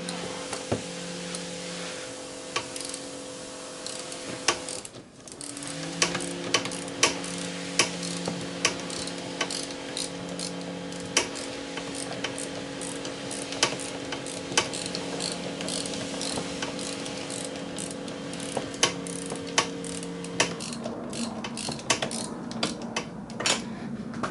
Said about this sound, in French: Ensuite, on passe à une douille de 17 pour dévisser la partie haute de la fourche.